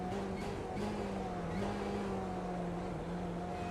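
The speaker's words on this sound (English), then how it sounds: "Really interesting sound on the downshift of these BMWs" Sim-racing engine note from a BMW GTE car in iRacing, a steady loud drone with shifting pitch as the driver works through gears, with a few faint crackles and pops on the downshift.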